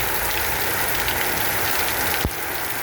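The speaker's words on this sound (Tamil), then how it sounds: "மழை அப்படி ஒரு குளிர்மையான மழை பெய்யுது" Heavy rain pours down steadily in a dense, hissing wash of drops, loud and close throughout, with a brief thump near the end and no voices.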